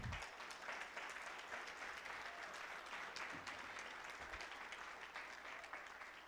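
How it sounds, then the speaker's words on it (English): Steady, loud audience applause fills a conference hall as a woman is cheered for winning a contest prize, dense clapping continuing throughout with no voices. "Give her a round of applause."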